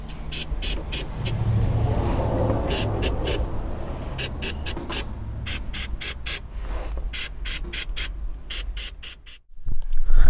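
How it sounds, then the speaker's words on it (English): Short bursts from an aerosol waterproofing spray can hiss onto washers and nuts, a dozen or more sharp sprays in quick irregular clusters, close and loud over a low background rumble. "We're gonna spray this just to waterproof those penetrations."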